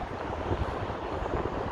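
Strong wind buffeting a microphone at the Zaryadye viewing platform in Moscow, a constant low rumbling roar with gusty pulses, loud and close, no voices.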